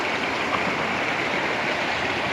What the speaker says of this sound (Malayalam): വെള്ളം ഇങ്ങനെ സൈഡിലൂടെ ഇങ്ങനെ പൊയ്ക്കൊണ്ടിരിക്കുന്നുണ്ട്